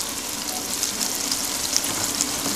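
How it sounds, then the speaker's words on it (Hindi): Chopped tomatoes and chillies crackle and sizzle in a frying pan as they are mixed, a steady close hiss with faint scraping and no talk. "अब इसके अंदर कटी हुई टमाटर डाल देंगे और इसको मिक्स कर देंगे"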